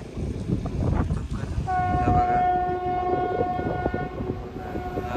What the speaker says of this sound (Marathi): या बघा त्यात ट्रेन पण आले, पण त्या धुक्यामुळे काय ट्रेन दिसत नाही